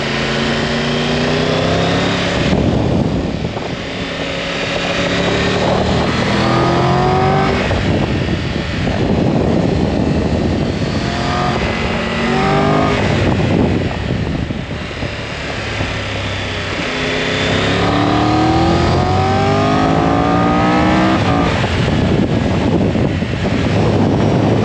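Triumph Tiger 1200 GT motorcycle engine revving and accelerating hard in sport mode, loud and close with rising pitch sweeps through repeated gear changes, buffeted by wind noise throughout.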